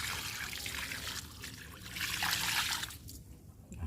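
Water trickles and splashes steadily onto grape plants during watering, a close continuous pouring sound that swells and thins as the flow shifts, with no talking.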